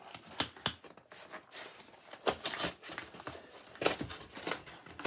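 A taped package being opened by hand, irregular bursts of crinkling, rustling and tearing at close range, rising and falling across the whole stretch with no speech.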